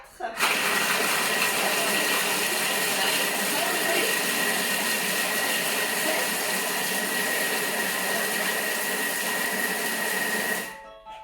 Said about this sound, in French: Donc là, ça va nous mixer notre petite préparation pendant 10 secondes. Vitesse 4.